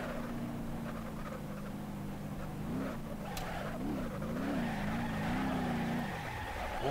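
Car engine in BeamNG.drive droning steadily, then revving and wavering as the rear steps out into a drift, with tire squeal; loud and continuous with no talk.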